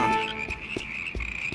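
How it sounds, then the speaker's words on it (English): Cartoon frogs croak in a few short, scattered bursts over a sustained high musical tone, fairly faint and without talking. "Those are our frogs."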